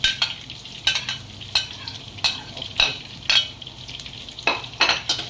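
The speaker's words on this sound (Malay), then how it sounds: "Kita gaul-gaul dia sampai naik bau. Kita kacau-kacau dia." Mouse-deer meat tossed with pounded ginger, cinnamon, lemongrass and chilli in a pan for a village-style soy sauce dish, giving a run of scraping stirring strokes about every half second over a low steady sizzle, with no talking.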